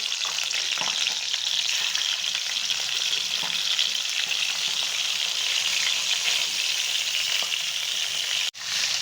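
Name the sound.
fish frying in a pan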